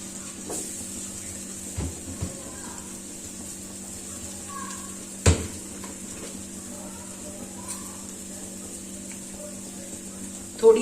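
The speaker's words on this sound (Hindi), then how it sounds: "अब इसी ऑयल में इनको करेंगे शैलो फ्राई।" Boiled vegetables shallow fry in oil with a low, steady sizzle and hiss, broken by a few sharp clinks and knocks from utensils.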